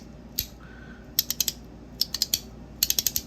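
Short bursts of quick ratcheting clicks from a hand-crank flashlight's gear mechanism come in small clusters with brief pauses between them, close by and quiet.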